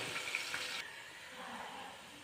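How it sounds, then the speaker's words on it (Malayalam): Garlic sautéing in a pan while making a mango and carrot pickle, giving a soft steady sizzle that fades slightly after the first second and keeps on alone at a low level. "വെളുത്തുള്ളിയുടെ കളറ് ചെറുതായിട്ടൊന്ന് മാറി വരുന്നിടം വരെ വഴറ്റിയെടുക്കണം"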